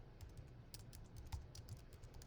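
Quiet, quick keystrokes tap on a computer keyboard in short irregular runs while text is entered into animation software, faint and close with no talking.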